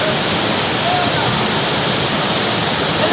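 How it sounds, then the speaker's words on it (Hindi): Langvoku Waterfall in Karbi Anglong, Assam: water falls from above with a loud, steady, dense broadband roar that fills the whole clip at close range. "जो पानी जो ऊपर से आ रहा है"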